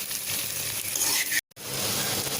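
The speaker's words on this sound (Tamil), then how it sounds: "ஒரு 1 நிமிஷத்துக்கு இந்த மாதிரி கரட்டி விட்டுக்கோங்க" Okra and onion fry in a pan over a low flame with a continuous soft sizzle and hiss, broken briefly by a moment of near silence before the frying resumes.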